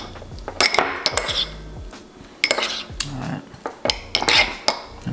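Cheesecake filling being mixed with fruit puree in a bowl, heard as close, irregular clinks and scrapes of a utensil against the dish in short bursts, with no talking.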